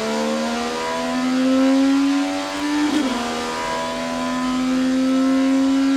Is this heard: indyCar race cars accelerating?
yes